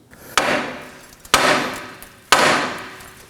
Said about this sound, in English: Using a hammer, we're going to be tapping around this area to break the ball joint loose